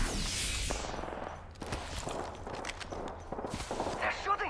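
Gunfire from an Apex Legends match, bursts of shots and impacts scattered across the scene, mixed with footsteps and game effects, with a voice speaking over it.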